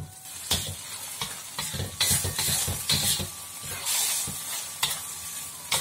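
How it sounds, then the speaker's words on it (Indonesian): Spices sizzling as they are sautéed in a pan until fragrant, a steady close frying hiss broken by repeated sharp scrapes and clicks of a spatula stirring against the pan. "Kan loncengnya ini kita tumis sampai harum"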